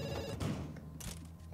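A telephone rings in The Sims 3, a repeating electronic ring heard at moderate level with the game's background sounds running under it.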